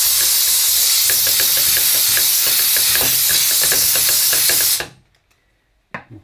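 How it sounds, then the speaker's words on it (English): A Dupray Neat steam cleaner fitted with a nylon brush steams a kitchen hob with a loud, continuous hiss over scrubbing knocks, then cuts off abruptly into near silence broken by a couple of faint clicks. "we'll give it a go with the nylon brush and the steam."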